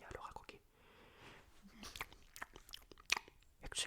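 Crunchy chewing close to the microphone during a whispered French ASMR story reading, sharp crisp bites and crackles scattered between soft whispering.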